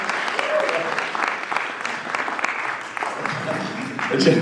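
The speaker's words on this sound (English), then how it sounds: "Round of applause for all the comedians so far." An audience at a comedy show claps steadily in sustained applause, a dense wash of hands that swells slightly near the end.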